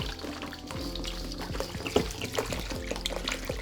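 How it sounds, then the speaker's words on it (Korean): Clean water, three liters, poured into coarse sea salt to make brine for salted radish pickles, a steady trickling, splashing pour heard up close in a quiet kitchen. "물도 깨끗한 물을 넣는 게 좋습니다"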